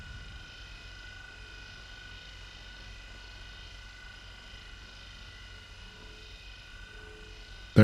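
A Star Citizen spaceship holds a steady hover outside VTOL mode, giving a continuous low engine drone with faint tonal whine, constant and even throughout, with a brief louder burst at the very end.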